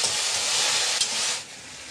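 Turmeric and spices roasting over a low flame give a brief, even sizzling hiss that eases off slightly near the end, heard close with no voices.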